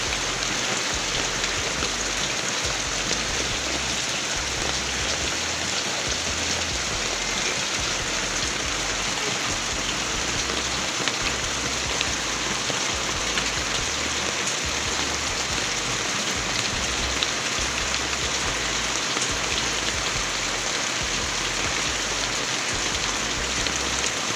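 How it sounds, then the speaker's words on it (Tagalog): Steady rain pours down in a dense, even hiss, continuous and fairly loud, with no other sounds standing out. "Ulan-ulan."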